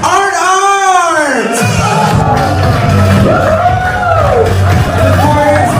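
Wedding guests at a reception clap and cheer loudly for the groom, a dense crowd roar with whoops and shouts from the men, while a host's amplified voice carries over the noise.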